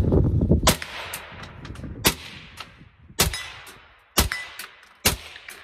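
Five sharp suppressed rifle shots from a Faxon with an 11.5-inch barrel crack out about a second apart, each a sudden loud snap with a short fading tail over a quiet outdoor background.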